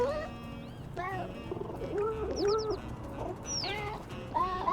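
Pigeons coo and warble in Little Kitty, Big City, a string of short rising and falling calls close by, with several birds overlapping and no talking.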